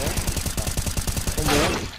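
Rapid automatic gunfire in the video game CS:GO crackles steadily for about two seconds in a quick even rhythm, loud and close, ending in a brief burst of noise.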